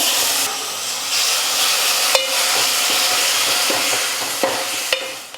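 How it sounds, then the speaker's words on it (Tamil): Hand-mashed tomato pulp with curry leaves sautés in a pan for black pepper rasam, giving a steady close sizzle and hiss with a few sharp clicks of a spoon stirring. "தக்காளி நல்லா வதங்கட்டும்"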